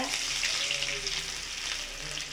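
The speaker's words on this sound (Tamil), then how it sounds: "எண்ணெய் போட்டு கடுகு போடுங்க. கடுகு பொரியட்டும். கடுகு பொரியுது." Mustard seeds spluttering and crackling in hot oil while tempering a Tamil okra tamarind curry, a steady dense sizzle close by without any talk.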